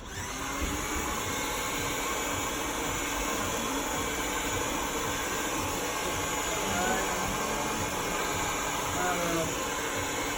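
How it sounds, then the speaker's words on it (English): A hair dryer blows with a steady, loud whooshing roar that runs continuously without pause from start to finish. "we're gonna use the blow dryer now"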